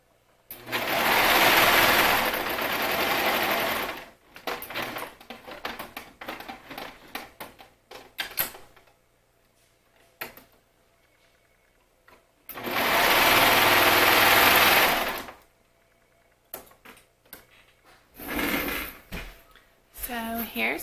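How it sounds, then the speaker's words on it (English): Sewing machine stitching a neckline on a flutter wrap garment, running in two loud bursts of steady whirring, each about three seconds long, separated by quieter handling clicks and fabric rustling. "I sew to the end and then I flip it around and I sew a little bit the other way"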